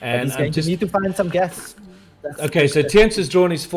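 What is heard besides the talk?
No distinct noise like a dog, phone or traffic.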